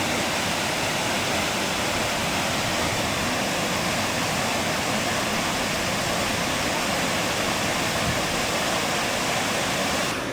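A jetboat ride on a New Zealand river produces a constant loud roar of rushing, spraying water, a dense unbroken wash of sound like a waterfall that lasts throughout.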